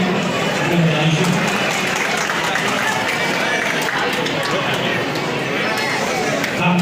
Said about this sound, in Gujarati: તાળીઓથી આપણે વધારીશું.